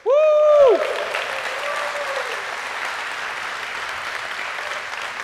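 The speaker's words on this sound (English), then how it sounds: "give a round of applause for the engineers that are building this" Audience applause at a cloud-security tech talk, dense sustained clapping across the room after a brief opening whoop, steady and fairly loud throughout.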